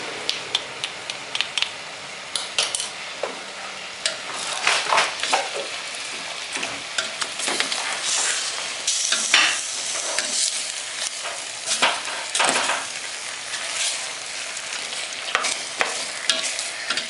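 Raw meat being mixed with mustard and seasoning: a steady run of close, irregular wet squelches and sharp clicks from stirring, with no voices.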